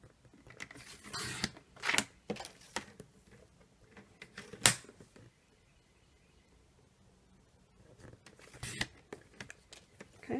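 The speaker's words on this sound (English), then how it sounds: "I'll take my paper trimmer. Other way, here we go, okay. And trim that down." A paper trimmer slicing through paper in a card-making setup, a few short close scraping and rustling passes separated by quiet stretches.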